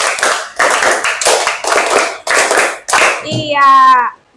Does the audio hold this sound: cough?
no